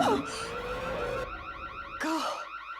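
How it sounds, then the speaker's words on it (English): Hospital alarm sounding near a women's washroom, a loud electronic warbling siren that cycles through rising and falling tones, with a short break before it resumes, close and alone. "The alarm is being tripped in the vicinity of the women's washroom, where Sandrea first encountered"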